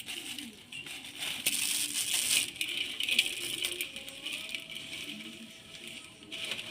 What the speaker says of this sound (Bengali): দুটো চাউমিনের যে প্যাকেট নিয়েছিলাম প্যাকেটগুলো ছিঁড়ে থালার মধ্যে গুঁড়ো করে নেব চাউমিনগুলোকে।